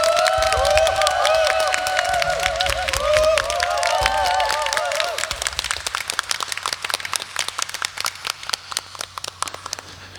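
A congregation at a 2019 North American Korean Holy Spirit conference applauds to welcome a priest. Music with a sung melody comes first, then a steady stream of many hands clapping for about five seconds.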